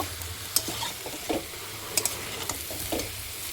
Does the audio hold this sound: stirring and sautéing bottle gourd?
yes